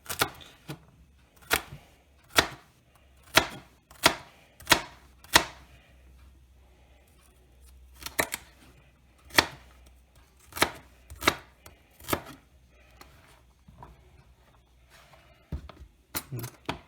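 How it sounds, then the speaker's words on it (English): Knife chopping ingredients on a cutting board while making chicken and dumplings: sharp, close, separate thuds in irregular bursts with pauses between, and faint talk in the background. "I know my cuts aren't exactly the best, but, who's the one with the knife in his hand?"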